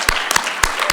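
Audience applause in the ECOSOC Chamber at a United Nations conference town hall, a short burst of scattered hand claps with several sharper individual claps standing out.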